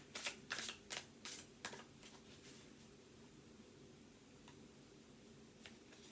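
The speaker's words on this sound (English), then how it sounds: "Let me shuffle." A deck of tarot cards is shuffled in a quick run of crisp riffling bursts, close and distinct, then a few sparse soft flicks over a quiet room.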